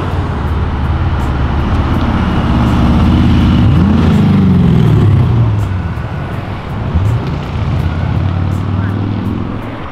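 A Chevrolet Camaro drift car with a 24-valve engine revs loudly and continuously up close, with rising and falling pitch sweeps, over a steady background of road noise and voices.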